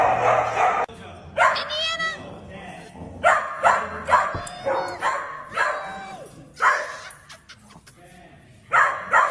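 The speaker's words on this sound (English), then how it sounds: "Dogs reacting to their names being called." Dogs bark and yip in short bursts as their names are called, close by, while people talk and call between the barks.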